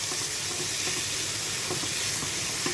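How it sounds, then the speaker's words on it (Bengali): Mashed jackfruit seeds frying in oil while being stirred give a loud, steady sizzle with faint scraping stirs underneath. "শুধু এরকম করে নেড়ে চেড়ে নেবার পালা এপিট এপিট করে ভালো করে খালি এটাকে নেড়ে নিতে হবে"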